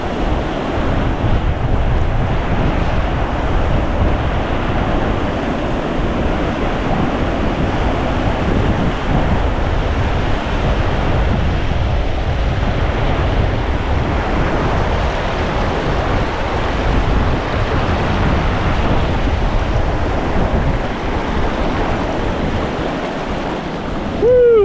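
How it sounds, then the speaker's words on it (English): Rough, churning haystack waves on the White River roar continuously with heavy wind buffeting the microphone, a loud, unbroken rush of turbulent water. "look at them haystack waves."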